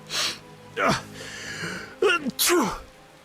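A voice in the video game The Witcher sneezes twice with exaggerated sharp bursts, preceded by breathy gasps, close and fairly loud.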